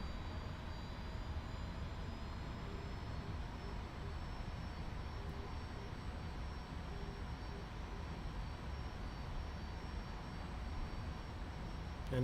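An F-86 Sabre jet in the DCS flight simulator on landing approach to Bandar Abbas Airport runway 021 with flaps down, a steady, loud engine drone with a thin high whine running unbroken the whole time, no voices.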